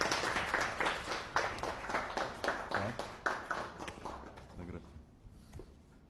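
An audience claps at a signing ceremony for a cooperation agreement between two youth political organisations, a moderately loud burst of applause with a few sharper individual claps that thins out and fades toward the end.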